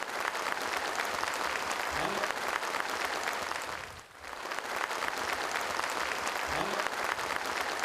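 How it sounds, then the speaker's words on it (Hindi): An audience at a cultural event applauds warmly for an honoured guest. Two sustained bursts of dense clapping are separated by a brief dip in the middle. "कुलदीप जी के लिए जोरदार तालियों की अपील है"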